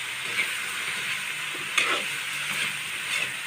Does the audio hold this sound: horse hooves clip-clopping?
no